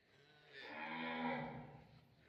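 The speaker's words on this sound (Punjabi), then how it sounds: "ਚੁਲਸਤਾਨੀ ਗਾਂ ਹੈ" A Cholistani cross cow lets out a single drawn-out moo that swells and fades over about two seconds, moderately close with no other sound around it.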